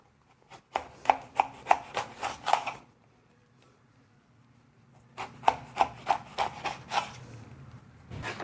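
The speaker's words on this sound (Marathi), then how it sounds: "तर दुसऱ्या बाजूने देखील त्याला 2 ते 3 चिरा आपल्याला मारून घ्यायच्या" A knife cuts slits into an eggplant on a board in two quick bursts of about six or seven crisp, rhythmic chops each, separated by a short quiet pause; no talking.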